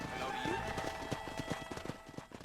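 Horse hooves clip-clopping in a rhythmic run of muffled thuds in the Western game Red Dead Redemption, a steady near gait mixed with other game noise and a voice talking over it.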